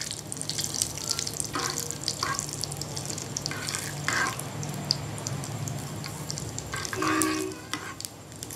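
Cumin seeds roast in a pan for kadhi pakora with a soft, steady sizzle, broken by intermittent scraping stirs. No one speaks.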